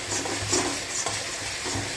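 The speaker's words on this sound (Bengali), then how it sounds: "এবার এর মধ্যে একটু 1 চামচ হলুদ গুঁড়ো অ্যাড করলাম। এটাকেও একটু নাড়াচাড়া করে নেব" A pan of frying mixture with ground turmeric being stirred, soft scraping strokes repeating about every half second over a low, steady sizzle.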